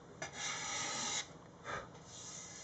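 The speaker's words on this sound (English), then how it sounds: "Just going to finish it off with a bit of scraper blade" Steel scraper blade drawn along the grain of a wooden Les Paul guitar body, giving two close rasping strokes, a long steady one followed by a shorter one, with a faint breathy tail.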